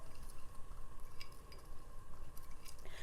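Seasonings of onion powder, garlic powder, cayenne and black pepper being mixed into chicken, soft clinks and scrapes of a utensil against a bowl, quiet and close, with a faint steady hum underneath.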